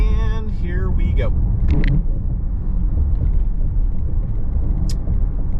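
A 2024 Infiniti QX60 Autograph luxury SUV rolling over a cattle guard, heard from inside the cabin as a loud, steady low rumble of road and tire noise, with a voice speaking briefly at the start.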